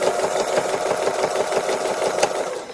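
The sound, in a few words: sewing machine free-motion embroidery stitching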